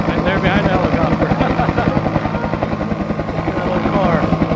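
A helicopter at the Kokomo air show gives a loud, steady, rhythmic rotor thump throughout, with someone talking over it.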